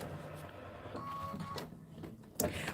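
An embroidery machine stitches a placement line on stabilizer, giving a quiet mechanical whirring with a faint tone, small clicks and a sharper clack near the end.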